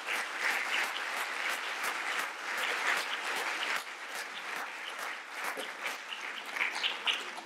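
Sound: audience applause for panel

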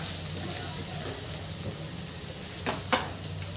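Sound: turmeric, ginger and garlic frying in a pan

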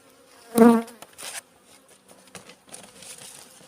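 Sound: honeybees buzzing at the hive

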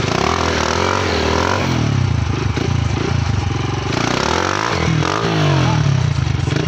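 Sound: motorcycle revving while popping a wheelie

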